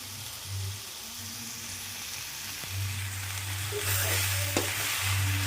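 Curry leaves sizzle in hot oil for fried rice, a steady, close frying hiss over a low hum, with a small clink near the end and no speech.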